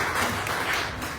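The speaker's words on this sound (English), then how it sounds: "Let's give a cheer to Jeff" An audience at an election integrity talk claps and cheers in a dense, continuous wash of applause that lasts about a second.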